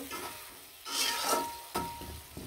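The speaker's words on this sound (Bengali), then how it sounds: "আলুগুলো দিয়ে কিন্তু ভালো করে নাড়াচাড়া দিয়ে ভালো করে কষিয়ে নিব।" Potatoes are stirred as they sauté in spice paste for a river fish and tomato curry. Two or three near, scraping sweeps of the spoon rise over a faint, constant sizzle.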